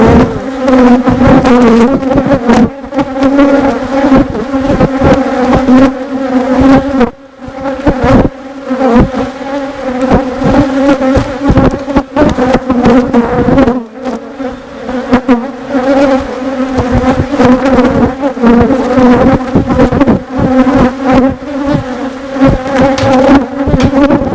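A dense, loud swarm of honeybees buzzes continuously around an open beehive during a beekeeping inspection, the steady hum pulsing slightly as bees fly close, with no talking.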